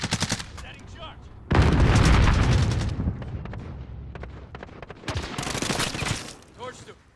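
An explosive charge detonating in Call of Duty: Modern Warfare, a loud burst amid rattling gunfire, with game voices calling out around it.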